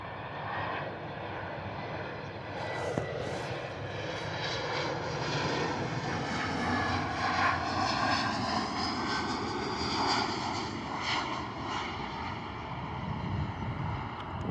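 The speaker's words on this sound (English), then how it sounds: "that KLM was fighting that headwind" A KLM airliner on approach to Bristol Airport into a headwind, its jet engines a steady, broad roar with shifting whine tones, heard from the ground amid wind buffeting the microphone.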